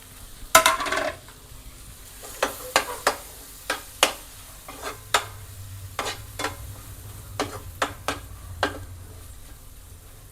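Scrambled egg being stirred and tossed into street-style spicy egg masala fried rice in a pan, with a steady run of distinct, close spatula scrapes and clacks against the pan over a faint sizzle and no talking.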